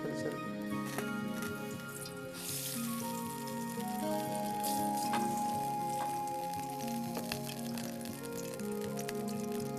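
Cashew nuts frying in hot ghee for papaya halwa, a faint steady crackle and sizzle running beneath a continuous tonal hum.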